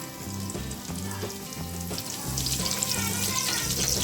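Cumin seeds sizzling in hot oil for phali qeema, a close, steady crackling fry that grows slightly louder, with faint rhythmic background music underneath.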